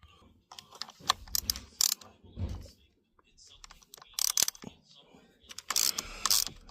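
A ratchet with a 10 mm socket loosens the airbag cover bolts on a 2011-2014 Dodge Challenger, giving short bursts of rapid, close clicking separated by pauses, with someone talking between them.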